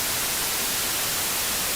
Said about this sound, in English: White noise is a popular ASMR trigger that can create a sense of calm and relaxation.